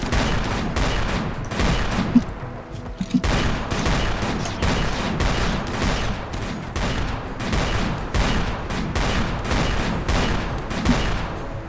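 Assault rifle fire in a video game, dense bursts of shots repeating steadily through the whole stretch, loud and close with no voices.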